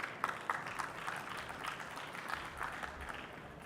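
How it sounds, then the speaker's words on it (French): Audience at an IT security conference on viruses and ransomware applauding a speaker's introduction, a steady spread of clapping at moderate level with no voices over it. "Fouzi Akermi, manager de chez Deloitte, que je vous demande d'applaudir chaleureusement."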